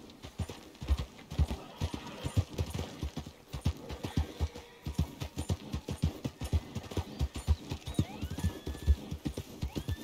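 Wild horses in Red Dead Redemption 2 gallop past with a steady clip-clop of many hooves, loud and close, with a neigh or whinny rising over the drumming; no talk.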